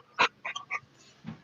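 A female dog makes short, high, close-up yelps and whimpers in a quick irregular burst, then a low grunt, sitting right on top of the person.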